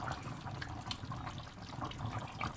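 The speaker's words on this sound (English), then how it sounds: "you can add in about 200 ml water, which is about 1 cup" Water pours steadily into a pot of chicken curry, a faint continuous splashing trickle heard alone for a couple of seconds.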